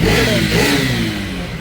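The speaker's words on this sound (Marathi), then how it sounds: "आता आवाज करा आपल्या गाडीचा" A car engine revs as a group sets off in two vehicles, a steady mid-pitched roar with a rising and falling pitch that holds loud and close throughout, with no talk over it.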